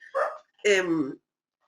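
Dogs bark at a bird passing by, giving two short, close, loud barks separated by a brief pause.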